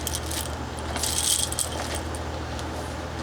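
A large ring of at least fifty test keys jangles and rattles close by, a steady metallic shuffle with a brighter burst of clinking midway, no talking.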